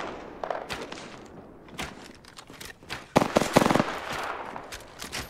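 Video game gunfire in an online shooter match, bursts of rapid automatic shots and scattered single cracks, moderately loud in the mix with faint movement sounds between volleys.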